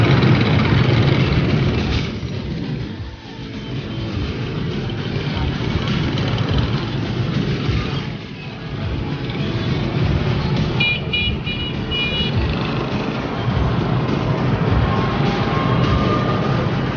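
Busy Sunday night street traffic in Vietnam, with a dense stream of motorbikes buzzing past and a steady roar of engines and horns, continuous and fairly loud.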